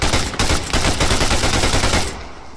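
Rapid bursts of automatic gunfire in ARMA 3 rattle loud and close for about two seconds, then cut off abruptly, leaving a quieter, muffled tail.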